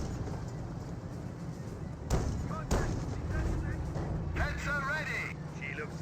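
A Hetzer tank destroyer fires in a Company of Heroes battle, two sharp, heavy gun blasts about half a second apart standing out from the rumbling battlefield, with a commentator talking throughout.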